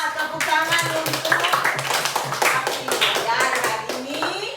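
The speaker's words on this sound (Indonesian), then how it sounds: "Tepuk tangan untuk" Schoolchildren in an elementary classroom clap together in quick repeated bursts, with overlapping children's voices and chanting running underneath the claps.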